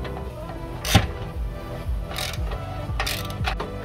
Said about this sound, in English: we're gonna have to tighten this using a hand wrench